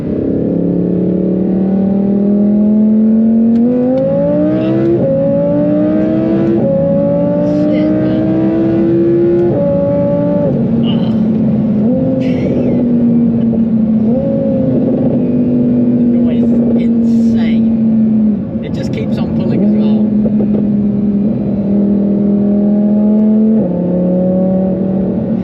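An Audi R8 V10 Plus with an aftermarket exhaust revs through rising and falling pitches, shifting up repeatedly as it accelerates, loud and close, with a sustained high-revving drone.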